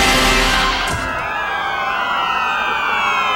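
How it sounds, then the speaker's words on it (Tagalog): Many police patrol car and ambulance sirens wail loudly and continuously together, their overlapping rising and falling tones sweeping across each other, with a sharp burst of noise near the start. "Sabay sa tunog ng mga sirena ng daang-daang patrol car at ambulansya"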